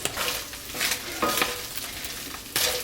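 Meat browning in a pan with pasta and heavy cream to come, steady sizzle broken by several loud scraping stirs, close and alone without voices.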